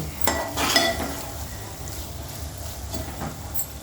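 Okra frying in oil in a pan, a soft continuous sizzle with a few scraping stirs and clinks near the start and again later.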